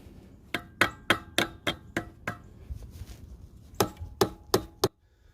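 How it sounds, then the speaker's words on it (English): Sharp metallic taps of a knife back against the bottom of a failing dirt bike carburetor, a quick run of about eight knocks, a pause, then five more, close and distinct. "getting something heavy and tapping the bottom of the carburetor"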